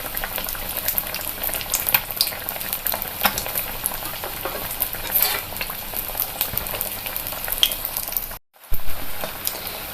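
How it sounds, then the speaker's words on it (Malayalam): Egg bajji, battered eggs, deep fry in hot oil with a steady crackling sizzle, small pops scattered throughout and a brief silent break near the end. "ഞാനിത് കുറേശ്ശെയാണ് ഇട്ട് വറുത്ത് കോരിയെടുക്കുന്നത്"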